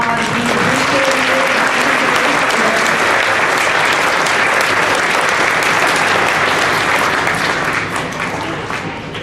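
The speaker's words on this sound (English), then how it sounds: "let's give a round of applause." Loud, sustained applause fills a school Veterans Day assembly, a dense wash of many hands clapping close and steady for several seconds before starting to thin toward the end.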